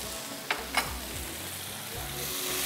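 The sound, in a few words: tomatoes, green chilies, ginger and garlic frying in a pan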